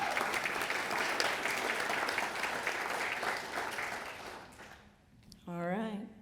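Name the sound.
audience applause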